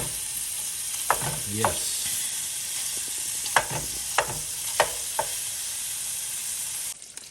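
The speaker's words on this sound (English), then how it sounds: "We're going to render all that smoke flavored bacon fat off of this bacon." Smoke-flavored bacon frying in a pan as its fat renders, a steady soft sizzle broken by several sharp spatula scrapes and taps; a voice briefly speaks.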